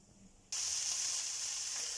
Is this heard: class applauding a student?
no